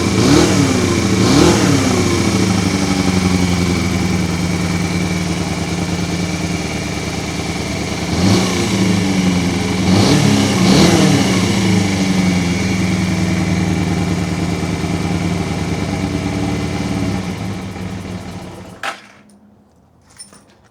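A Honda XR200R motorcycle engine with a suspected carburettor problem runs at a steady, rough idle. It is revved up several times, then shuts off near the end.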